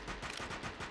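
Pistol gunfire in Rainbow Six Siege on the Coastline map, a quick run of sharp shots with no pauses, fairly quiet and heard without talk.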